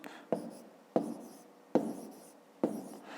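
Pen strokes writing numbers on paper for a column multiplication sum, four distinct scratchy strokes spaced at an irregular rhythm, close and clear with no talking.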